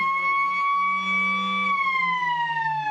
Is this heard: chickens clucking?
no